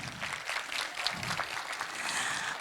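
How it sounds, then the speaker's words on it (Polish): An audience in a kindergarten hall claps after a theatre show by a group of four- to six-year-olds, giving steady, dense applause for a few seconds with no voices over it. "Wielkie brawa!"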